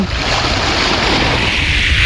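Strong ocean waves surge near a fishing spot, a loud, steady wash of surf with blustery wind noise across the microphone and no talking.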